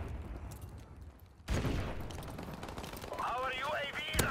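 Video game gunfire from a multiplayer shooter: a sudden loud burst of shots crashes in after a quiet start and keeps rattling on as dense, close firing, with game sounds layered on top toward the end.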